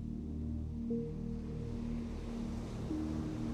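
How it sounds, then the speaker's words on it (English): Steady, soft seaside waves wash continuously under relaxing sleep music, a low constant surf rumble with gentle sustained tones layered on top and no voices. "and these comforting seaside waves,"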